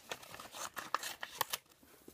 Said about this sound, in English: And you want to just cut out a piece of paper and